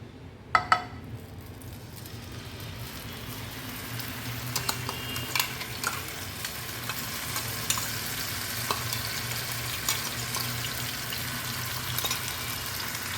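Ground spice paste fries in hot mustard oil for Kolkata street-food aloo chop, a soft continuous sizzle with frequent spoon scrapes and clinks as it is stirred nearby.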